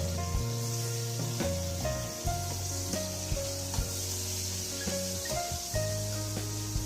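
Tomatoes and onions frying together in a pan for a village-style home dish, giving a steady close sizzle with scattered spatters, under sustained tonal background music.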